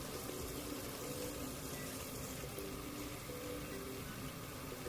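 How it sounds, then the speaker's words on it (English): Water running into a bucket from a tap, a constant, fairly quiet rushing gush that continues unbroken throughout with no voices. "We go ahead and fill the water, fill the bucket up."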